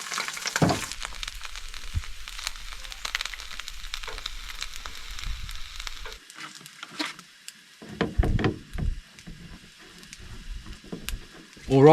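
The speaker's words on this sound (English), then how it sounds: "Alrighty, our sausages are finally done." Sausages frying in oil in a pan over low heat at a truck campsite in the New Zealand wilderness, a steady close sizzle for the first several seconds that gives way to quieter clatter and scattered handling noises.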